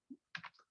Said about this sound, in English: I'm gonna type the letter 1, 2 appeared, 3,